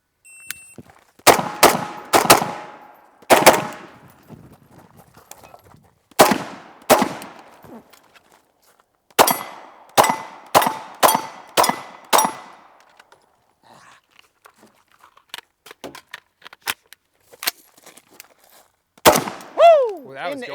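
Gunshots from a Tactician rifle striking steel targets, a series of sharp cracks each followed by a ringing metallic clang, fired in quick clusters with pauses between and a few lighter pings near the end.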